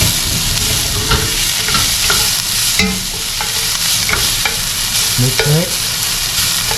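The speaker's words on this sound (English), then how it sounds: "Just saute everything. Onions, ginger, and garlic." Onions, ginger and garlic sauté in a pan alongside browning chicken skin for tinola soup, with a loud, constant sizzle and repeated scraping stirs of a utensil against the pan.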